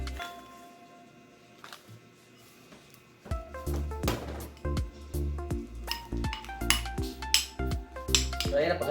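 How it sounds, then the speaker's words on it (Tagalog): Margarine and garlic powder get stirred in a bowl with a utensil, giving close clinks and scraping taps that start sparse and quiet, then turn into a busy, uneven run of clatter. "Maghahaluin lang natin yan mga sangkay, yung garlic powder at saka yung margarine."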